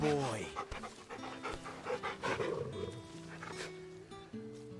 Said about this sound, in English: Well, you can still pet the dog